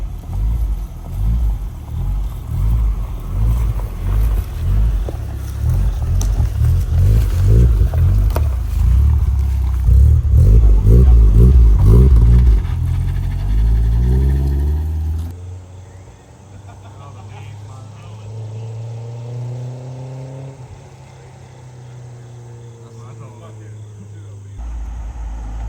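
A drag car engine rumbles loud and rough for about fifteen seconds after firing up, then gives way to a quieter, steadier drone.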